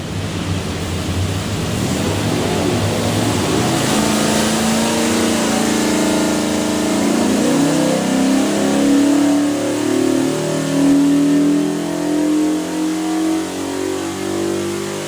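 A 347 cubic-inch Ford V8 on a dyno revs up through a long pull, its loud, close engine roar climbing steadily in pitch and holding at high revs, with no voices.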